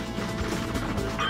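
Grenade explosion in the video game Just Cause: a dense, noisy crashing blast that fills the short moment at steady loudness, with no talking over it.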